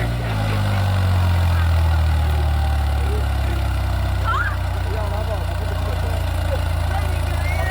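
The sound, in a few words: tractor engine running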